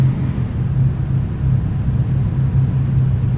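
Steady low engine rumble of many cars stuck in a traffic jam in a driving game, a continuous dense drone with no breaks, fairly loud and without voices.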